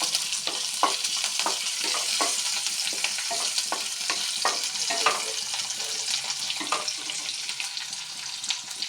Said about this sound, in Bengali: এখন তেলটা গরম হয়ে এলো এখন দিয়ে দিচ্ছি পেঁয়াজ